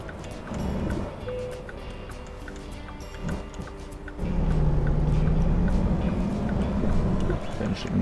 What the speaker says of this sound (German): Motorrad.